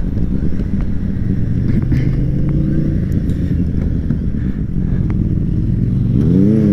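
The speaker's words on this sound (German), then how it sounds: "Es fährt ein Ford Mustern vorbei" A Ford Mustang passing close by, a loud, steady low engine roar filling the scene throughout, rising into a revving sweep at the end.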